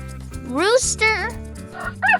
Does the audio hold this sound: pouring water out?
no